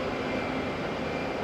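A fixed-wing airliner at Auckland International Airport produces a steady, fairly faint engine rumble and roar with no voices over it.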